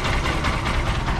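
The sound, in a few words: TVS Apache RTR 160 4V motorcycle engine running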